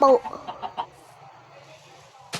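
Farmyard chickens give a quick run of short clucks, fairly close, then fall quiet; one more brief sound comes at the very end.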